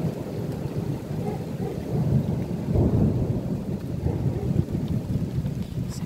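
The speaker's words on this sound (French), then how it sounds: "Oula, ça commence à pleuvoir." A summer thunderstorm with strong gusts at Meyzieu: steady rain and low rolling thunder rumble continuously, with a louder thunder swell midway, no talking.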